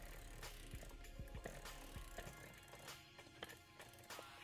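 Fanttik T1 Max cleaning tool turning with a ratchet, giving a string of light, close clicks and small taps in an uneven rhythm, quiet and heard alone.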